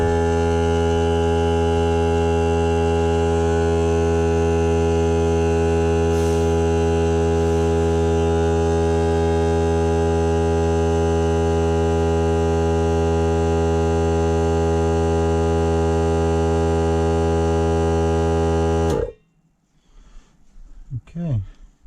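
A Ryobi ONE+ R18AC cordless air compressor running with a steady, loud, droning hum for a long stretch, then cutting out abruptly, followed by faint rustling and a voice.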